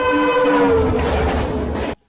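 A loud Vande Bharat train horn blares over the roar of the passing train, its tone sliding slightly lower before the sound cuts off abruptly.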